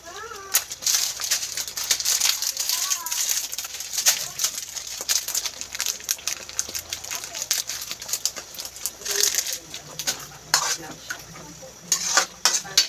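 Pork cubes for spaghetti sauce sizzling in a pan while a utensil repeatedly scrapes and clatters against the metal, close and busy throughout.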